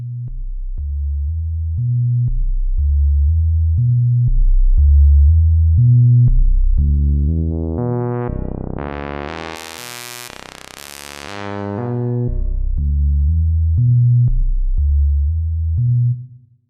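A Haken Continuum synthesizer plays a noise-from-seed pattern: loud, repeating low pulsing notes, with a bright swept burst in the middle that rises and then falls back before the steady pulses return.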